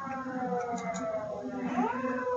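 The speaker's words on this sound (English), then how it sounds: "I apologize for the sirens." An outdoor emergency siren rises and falls, its wavering tones sweeping up near the end with a faint background rumble and no talking.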